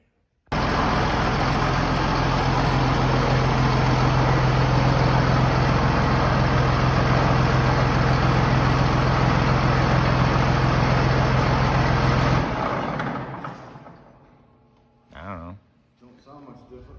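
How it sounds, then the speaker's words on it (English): A tractor engine starts abruptly and runs loud and steady with a strong low drone for about twelve seconds, then cuts off and winds down, followed by brief knocks and quieter sounds. "The engine's so noisy on these tractors."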